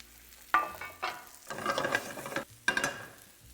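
Peas are stirred in a hot pan with lemon zest, making three or four bursts of close scraping sizzle with short pauses between them. No voices.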